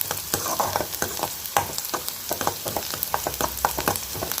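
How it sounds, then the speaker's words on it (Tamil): Onions sauté in a pan for a cabbage stir-fry, a close sizzling fry broken by repeated spoon scrapes and taps in an uneven rhythm, with no talking. "இப்போ இந்த வெங்காயம் நல்லா வதங்குது, வெங்காயம் நல்லா வதங்கட்டும்."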